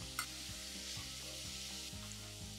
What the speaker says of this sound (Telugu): ఇప్పుడు ఈ అనియన్స్ మంచిగా ఫ్రై అవ్వాలి.